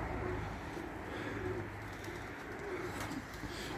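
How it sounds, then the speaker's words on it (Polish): Soft, low cooing of a homing pigeon back from a flight repeats a few times beneath steady background noise, fairly faint and unhurried. "Zobaczcie, jest gołąb z lotu."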